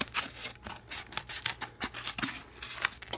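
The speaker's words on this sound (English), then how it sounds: "I'm just going to cut right in the middle for my stamp" Scissors cut into a recycled styrofoam lid to make a stamp, giving rapid, close, crunchy squeaking snips in an uneven rhythm with nobody speaking.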